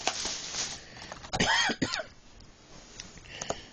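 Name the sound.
coughing and throat clearing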